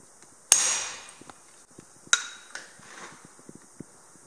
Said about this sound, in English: So, let's hammer in some stamps.